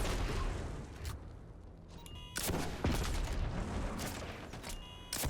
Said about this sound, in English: let's rocket it the rest of the way.